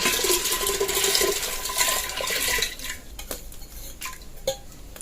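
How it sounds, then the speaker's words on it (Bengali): Water poured into a cooking pot holding dal for shuktor dal, a steady splashing pour for several seconds, then clinks and scrapes of the pot and utensils nearby. "জল দিয়ে দিব পরিমাণ মতো, আর একটু জল দিব।"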